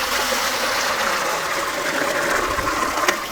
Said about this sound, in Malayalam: ആദ്യം നമുക്ക് ഈ പാത്രത്തിലേക്ക് ഒരു കുടം വെള്ളം ഒഴിച്ചു കൊടുക്കാം.